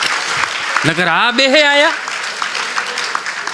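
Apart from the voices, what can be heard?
applause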